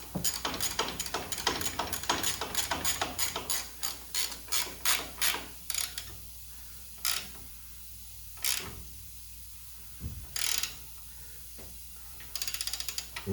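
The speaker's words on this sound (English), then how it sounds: "we got a ratchet wrench here" Ratchet wrench tightening strut bolts during a 2007 Chevy Silverado strut replacement: rapid close clicking of the pawl in bursts, first a fast continuous run, then separate short strokes with pauses between them, no talk.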